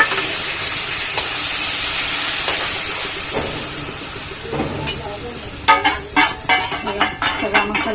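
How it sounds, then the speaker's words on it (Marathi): Ground masala paste hits a hot pan already holding red chilli powder for a spicy Maharashtrian fish curry, a loud steady sizzle and hiss that fades, then scraping stirring strokes take over near the end. "नंतर मग हा वाटलेला हा मसाला टाकते."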